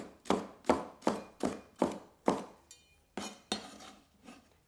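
A knife chops finely sliced red pepper on a board, roughly ten crisp, evenly spaced cuts, close and fairly loud, with a faint clink between strokes.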